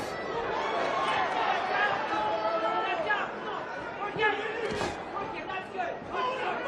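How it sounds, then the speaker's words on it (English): A boxing arena crowd in Dallas, Texas buzzes with steady chatter and murmuring voices, a dense continuous hubbub of many people at moderate volume. "This crowd still buzzing."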